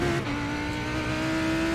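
A GT race car engine in a sim racing game hums as a steady, continuous drone with a sustained tonal whine, holding level throughout with no voices.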